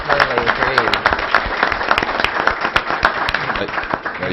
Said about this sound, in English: our city maintenance department deserves a big round of applause